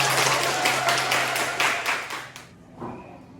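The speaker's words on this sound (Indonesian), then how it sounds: "Ya, tepuk tangan." Audience applause after a poetry recitation at a teacher performance assessment, a dense steady clapping that fades out partway through, with a brief voice afterward.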